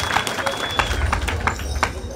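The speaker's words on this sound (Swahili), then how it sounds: "Makofi." Learners at a school gathering in Kiharu, Murang'a give a brief round of applause, a close, busy patter of many hands clapping together.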